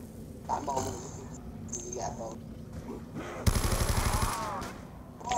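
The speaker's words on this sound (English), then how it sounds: "you go ahead and shoot that RPD while I have my M1911" Rapid RPD light machine gun fire in Black Ops 2 Zombies, a dense burst of shots lasting about a second near the end, with voices talking over game sounds before it.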